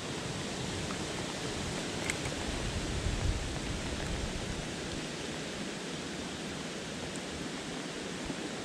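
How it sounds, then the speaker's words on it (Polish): Heavy rain pouring down on a trout-fishing trip by a river, a dense, steady hiss of downpour that fills the whole clip evenly and loudly, with no voices. "Ale leje."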